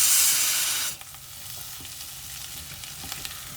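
Chicken pieces fry in oil in a pan over medium flame for an Andhra-style chicken fry, with a loud hiss that drops sharply after about a second into a steady, quieter sizzle crackling on alone.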